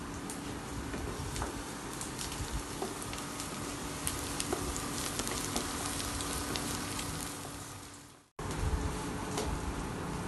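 Onion and garlic sizzle together in a hot pan while being cooked for a Middle Eastern lamb dish, a steady dense crackling hiss that runs close and unbroken for about eight seconds, cuts out briefly, then resumes.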